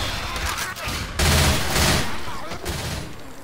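Dense, loud gunfire from Left 4 Dead 2 rages throughout, bursts of rapid shots overlapping into a continuous fusillade with a sharp surge partway through.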